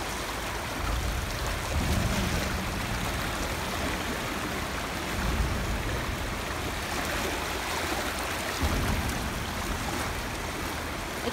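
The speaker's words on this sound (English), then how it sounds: "we can hear a lot more water running through it" Water in a creek's wide, fast main stem rushes and burbles steadily nearby, a constant broad splashing flow with no voices.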